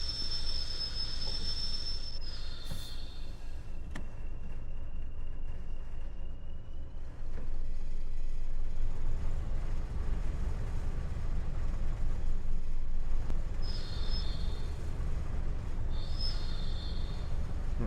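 A train in a Blackpool Branches railway simulator rumbles along at low level, wheels clattering softly. A high warning tone sounds early on and again twice near the end.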